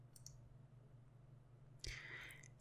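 A single computer mouse click on a settings gear, a brief faint snap near the end with low hum beneath, no talk.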